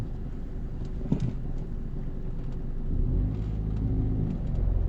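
A car engine idles, then rumbles and revs up as the learner-driven vehicle pulls away in first gear, steady low drone building toward the end.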